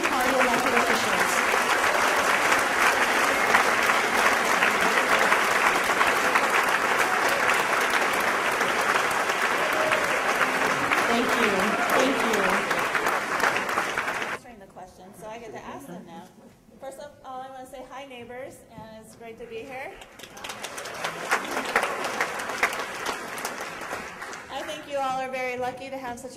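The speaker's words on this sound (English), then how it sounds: "Let's give a round of applause to all of our Green Party elected officials." An audience at a Green Party presidential debate in San Francisco applauds loudly and continuously for about fourteen seconds, then the clapping stops and a speaker's voice carries over the hall.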